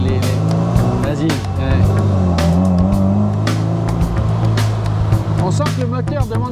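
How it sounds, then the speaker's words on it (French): FIAT 124 Spider engine revving hard and accelerating through the gears, loud and close with a steady throaty drone, while people talk over it inside the car. "On sent que le moteur demande qu'à partir."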